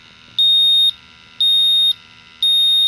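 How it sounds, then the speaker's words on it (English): A gas meter's steady electronic beep sounds three times at even intervals, each tone about half a second long, loud and clear against a faint hum. "you can see here by that single beep that you notice that it's done"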